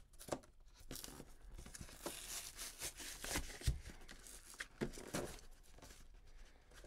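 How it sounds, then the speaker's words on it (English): Cardboard toy box for a Hot Wheels Monster Jam Smash and Stash play mat being ripped open by hand, a string of close, loud tearing and crinkling bursts over about seven seconds with no talk. "We're just gonna rip this open because I'm not keeping this box"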